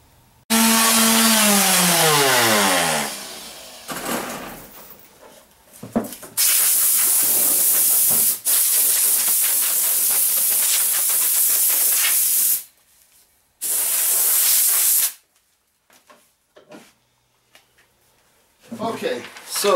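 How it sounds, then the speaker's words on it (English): A power sander works over the lid of a handmade wooden ammo box, loud and close, in several long hissing passes separated by short pauses, with a voice speaking at times between them. "I'm going to go ahead and give it a good sanding again"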